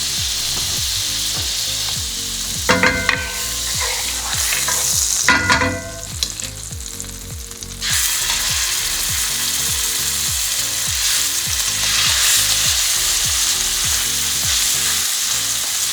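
Butter with avocado oil sizzles in a hot pan on the stove while cooking chicken for a mushroom rice dish, a loud constant frying hiss broken by a few scraping stirs and clicks.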